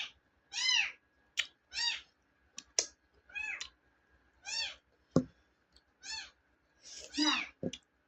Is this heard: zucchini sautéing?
no